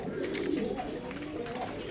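Pigeons at a fancy pigeon farm coo and murmur steadily close by, a soft continuous flock sound with occasional brighter calls layered through it.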